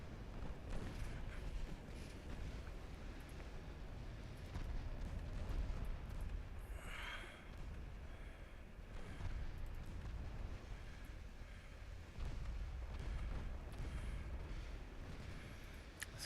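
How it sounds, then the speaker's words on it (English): A torpedo detonates during naval combat in the warship game Ultimate Admiral Dreadnoughts: one muffled, rising burst partway through, set against a steady, heavy rumble of sea and battle ambience with no talking. "there's a torpedo detonation"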